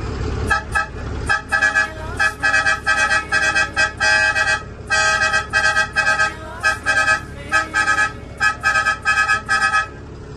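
A loud truck horn honks over and over in rapid choppy bursts, blaring close by above a low engine rumble.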